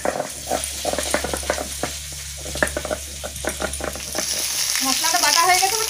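Vegetables fry in a pan with a crackling sizzle, punctuated by rhythmic knocking taps like spice being ground nearby, the frying hiss swelling louder toward the end.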